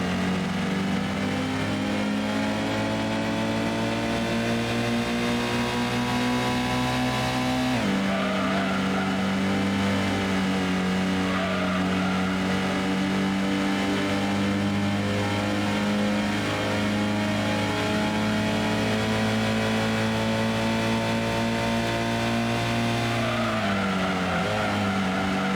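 Race car engines in Gran Turismo drone loudly and continuously, one sustained whine shifting gear once early and sweeping slightly in pitch, with other cars faintly in the mix.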